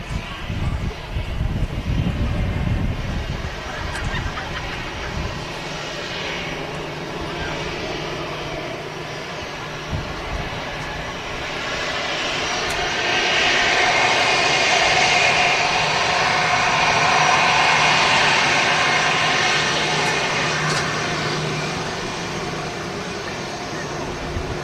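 A Singapore Airlines A380 arriving: a steady, broad jet roar that swells toward a peak in the middle before easing slightly, continuous throughout and heard from some distance.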